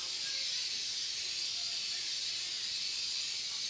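Steady aerosol hiss of Gunk white lithium grease spraying continuously at close range, a broad even rush with no pauses and no talk.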